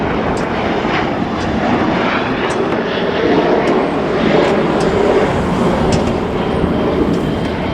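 A Southwest Airlines jet passing overhead near Playa del Rey in Los Angeles, a loud continuous broadband engine roar, steady throughout with faint clicks above it.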